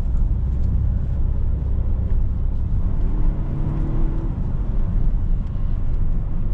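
Volvo XC60 T8 Polestar with Öhlins suspension and Akebono brakes on the move, heard from inside as a steady low road-and-engine rumble with tyre whir, loud and continuous with no talk.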